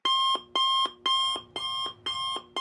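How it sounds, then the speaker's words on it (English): Loud alarm clock blaring in a SpongeBob-parody visual novel game, five bright beeping bursts in a steady repeating pattern, each about half a second with short gaps, sounding alone with no talk. "my alarm clock blares loudly"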